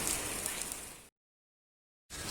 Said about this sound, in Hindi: बारिश अभी भी हो रही है